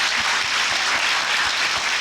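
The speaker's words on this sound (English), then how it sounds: "So can we clap for poetry not being boring?" A college lecture audience bursts into steady, dense clapping that stays loud and even for the full two seconds.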